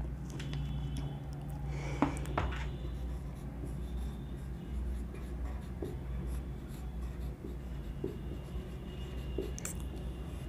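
Pen writing notes by hand, a steady faint scratching that runs throughout under a low constant hum, with a couple of brief louder taps near the start.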